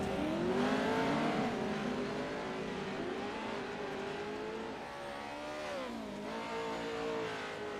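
Race cars battle through a dirt-track heat race, engines roaring loud and continuous with rising and falling revs as they jostle close together, no talk over the noise.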